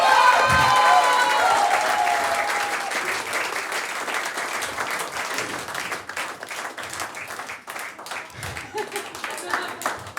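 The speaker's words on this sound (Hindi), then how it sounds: "तालियां बजाइए।" A comedy crowd keeps up loud applause and scattered cheering that slowly thins toward the end, with a voice speaking over the clapping.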